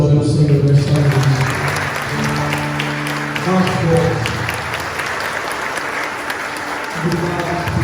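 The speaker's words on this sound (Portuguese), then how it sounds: "Podemos aplaudir o Senhor nesta noite." A church congregation claps together at a Pentecost service, dense sustained applause throughout, with someone speaking and music or singing tones layered over the clapping.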